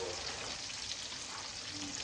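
Two eggs fry in a pan with a steady, close, broadband sizzle that holds throughout, and no voices can be heard.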